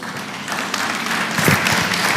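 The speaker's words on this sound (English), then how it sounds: "Round of applause, ladies and gentlemen." An audience at a fintech conference applauds after a presentation, clapping that swells gradually and grows louder toward the end.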